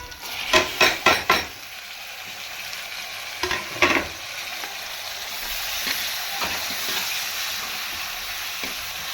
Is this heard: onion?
yes